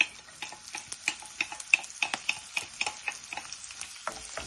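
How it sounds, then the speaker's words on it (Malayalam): Garlic, chili, ginger and curry leaves frying and being stirred in hot oil, giving a soft steady sizzle broken by a regular run of light utensil ticks and scrapes, close by, with no talk. "ഗാർലിക്കും ചില്ലിയും ജിഞ്ചറും കറി ലീവ്സും ഇട്ട് കൊടുക്കാം."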